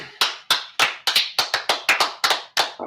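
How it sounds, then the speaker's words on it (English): A small group claps in a round of applause, about a dozen sharp, separate hand claps at an uneven, quick pace, close and fairly loud with no talking. "Wow, round of applause."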